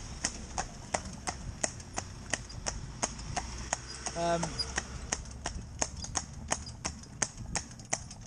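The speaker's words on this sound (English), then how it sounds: "if you just listen now to the note of her shoe as it lands" A cob horse's shod hooves clip-clop in an even, brisk rhythm on a hard paved road, crisp and close, while someone briefly speaks in the middle.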